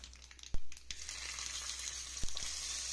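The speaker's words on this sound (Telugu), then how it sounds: "ఈ తాలింపుని దోరగా వేగనిచ్చి" A tempering of spices and a pinch of asafoetida frying in hot oil for buttermilk curry, a quiet, continuous crackly sizzle broken by a few sharp spoon taps against the pan.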